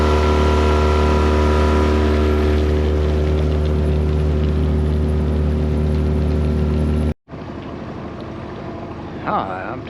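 A motorboat engine drones loudly and steadily with a deep, constant hum, then cuts abruptly near the end, leaving quieter water and outdoor sounds.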